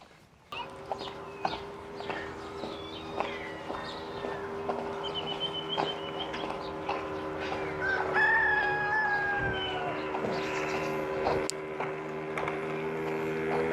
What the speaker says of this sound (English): Some hens here.